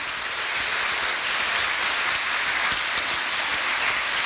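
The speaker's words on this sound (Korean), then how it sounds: "모두 고생했다고 박수 한번 쳐주시기 바랍니다" A large audience at a year-end event claps steadily and loudly, a dense, sustained wash of applause with no pauses.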